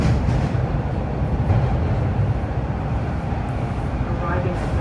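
Toronto TTC T1 subway train running on Line 2 of the Bloor-Danforth line, a steady loud rumble and roar of the moving car throughout, with faint voices underneath.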